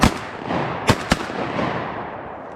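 Shotgun blasts ring out while duck hunting in Virginia on opening day: a sharp shot at the start, then two more close together about a second later, over steady outdoor background noise.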